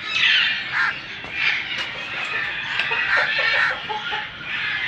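Hens cluck steadily while a rooster calls out now and then on a breeding farm in Pakistan, a busy, close-up flock sound with no talking.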